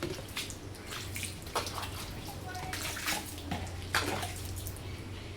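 Muddy plant leaves and garden tubs being washed, heard as close splashing and running water with scattered splashes and drips, and a faint voice in the background.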